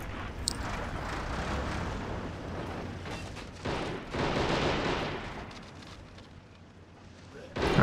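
Explosions and mortar fire in the World at War video game, heavy rumbling blasts rolling through the whole stretch, with a couple of sharper booms swelling late and players talking over the noise.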